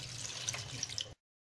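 Water is poured into a pan of shahi paneer with butter and spices, a short soft trickling splash lasting about a second before cutting off, quiet and close.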